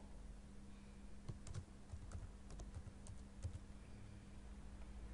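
A computer keyboard typing a project name, a quick run of light key taps over a low steady hum, close and quiet with no talking.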